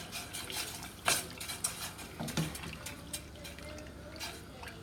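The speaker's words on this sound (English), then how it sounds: "So we're going to stir." Quiet spoon stirring of a cornstarch-thickened Catalina salad dressing in a pot nearing a rolling boil, soft scraping and clinks with one sharper tap early on.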